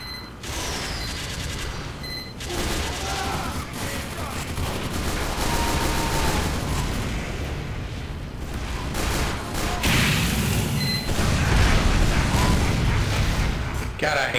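Gunfire and explosive battle noise from the video game Team Fortress 2 rumble continuously and loudly, with dense overlapping shots and booms building in intensity alongside background game sounds and a talking voice.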